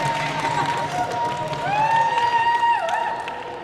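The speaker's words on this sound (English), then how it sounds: "And the crowd goes wild." Stadium crowd roaring and cheering after a second goal for New South Wales B in a men's sports match, a broad sustained swell of voices with a brief whistle-like tone rising over it.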